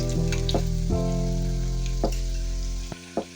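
Onion bhaji (kanda bhaji) fritters frying in hot oil, a loud steady sizzle throughout with a few soft stirring knocks, fading out near the end.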